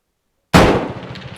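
A single gunshot fired close by after a moment of silence: one sharp, loud crack that rings out into a decaying tail lasting about a second.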